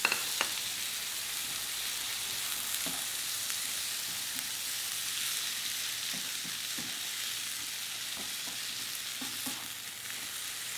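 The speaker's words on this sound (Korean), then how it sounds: "찬물에 헹궈 놓은 면 넣으시고, 그 다음에 아까 전에 만들어 놨던 야끼우동 소스를 넣도록 하겠습니다." Udon noodles stir-fried with yaki udon sauce, a steady bright sizzle with occasional scraping and tossing clicks from the pan, close and continuous.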